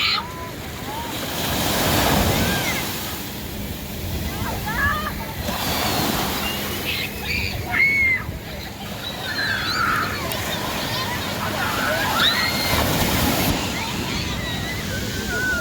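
Ocean surf rolling onto a beach, with broad washing swells rising and falling close by and steady wind buffeting the microphone throughout.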